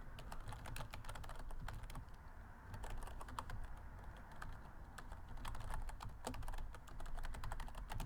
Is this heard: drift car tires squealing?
no